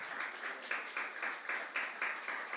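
A church congregation claps in unison to praise the Lord during worship, a steady rhythmic beat of roughly two claps per second, somewhat faint and even throughout.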